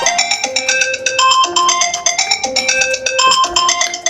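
A loud musical phone ringtone plays for an incoming call, a repeating bright melody of tones in a steady rhythm, heard up close with no talk over it.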